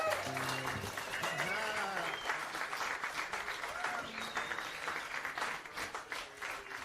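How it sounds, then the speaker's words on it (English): A live audience at an intimate concert at Motel Chelsea claps and cheers loudly after a song, dense steady applause filling the whole stretch with a few voices rising through it. "The crowd goes wild."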